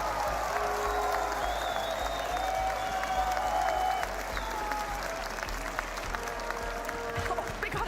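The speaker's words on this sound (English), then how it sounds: "Every time we get a timeout, everyone starts clapping." A large crowd at a Rocket League esports event in Copenhagen claps steadily through a timeout, a dense, sustained wash of applause with faint voices and a horn-like tone rising through it.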